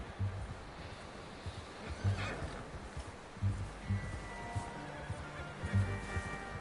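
A horse in the video game Red Dead Redemption 2 snorts and whinnies a few times amid hoof clops and rustling, moderately faint.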